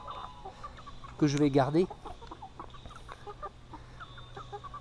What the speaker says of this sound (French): Ici alors mes gauloises dorées avec une petite poule viandotte